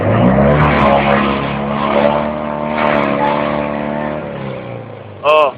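A Fiat 126p (Maluch) engine runs loudly and roughly with a grinding drone, ending in a brief high squeak.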